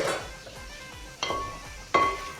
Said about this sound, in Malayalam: നമുക്കെല്ലാം കൂടെ ഒന്ന് മിക്സ് ചെയ്യാം.